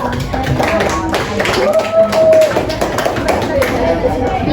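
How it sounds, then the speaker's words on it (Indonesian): A classroom claps for the green energy group, producing a patter of scattered hand claps that runs under a teacher's speaking voice. "kita berikan aplaus untuk kelompok energi hijau"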